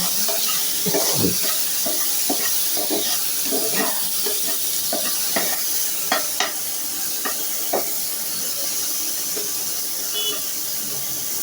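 Eggplant frying in a pan with turmeric and salt, a constant loud sizzle with scattered stirring clicks and scrapes, close up, some faint talk underneath.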